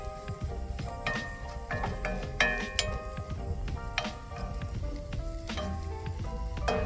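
Onions sauteing on an Everest Camp Chef stove: a steady sizzle and crackle with frequent sharp ticks and clinks of a utensil against the pan, close and continuous, with no talk.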